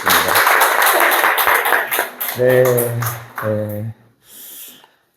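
A church congregation claps together for a couple of seconds in a dense, steady burst, then it gives way to a few sustained tonal notes and trails off into quiet.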